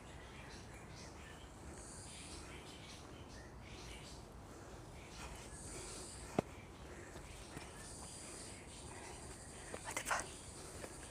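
Birds and crickets calling outdoors on a hillside trail near Mau Wu Shan in Hong Kong, faint and distant, with scattered chirps and a soft insect hum over quiet background hiss.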